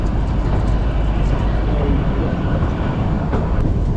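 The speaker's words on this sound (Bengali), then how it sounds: "বারক স্টেশন যেখানে আমাদের ট্রেন এখন এন্টার করছে" A loud, steady rumble of the Kalka–Shimla toy train rolling along the tracks into Barog station, with continuous low clatter and no voices.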